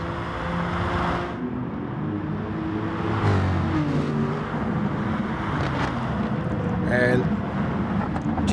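Supercars sim racing at Bathurst run under a virtual safety car, engines whirring and revving steadily in the background while commentators talk over them.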